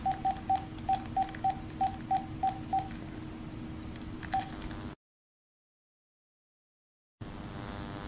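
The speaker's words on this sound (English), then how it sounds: "So I'm going to dial my cell phone number off camera." A run of short, evenly spaced touch-tone beeps as a cell phone number is dialed from a Google Voice home phone line, then one more beep over a steady low hum before the sound cuts to silence.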